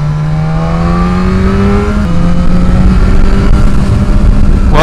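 A new, not yet run-in BMW S1000RR motorcycle engine revs loud and close, its pitch rising steadily and dipping briefly before climbing again, with wind noise throughout.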